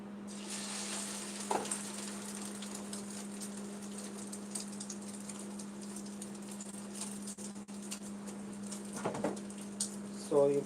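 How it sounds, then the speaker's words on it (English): Egg-dipped bread coated in sauce sizzles steadily in a frying pan, a soft continuous crackle with a low hum underneath and a few brief clinks and scrapes. "And I'm gonna put it in the frying pan."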